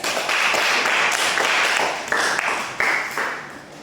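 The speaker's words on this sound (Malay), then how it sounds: "Tepukan untuk kelas" A classroom audience gives a round of applause after student presentations: dense, steady clapping from many hands that swells and dips a few times over several seconds.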